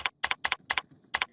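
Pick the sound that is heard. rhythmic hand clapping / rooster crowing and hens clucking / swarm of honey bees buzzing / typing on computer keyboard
typing on computer keyboard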